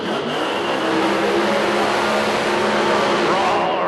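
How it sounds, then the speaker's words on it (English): Drag car burnouts at a Lights Out drag racing event, twin-turbo car on one side and a blower car on the other, a loud steady engine roar with wheelspin sustained throughout at close range. "Listen to the burnouts."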